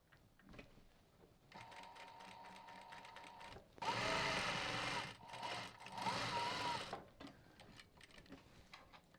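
A sewing machine stitches a drawstring backpack seam, a steady mechanical whir that then surges into two louder, faster runs of back stitching separated by a short break, heard alone with no talking.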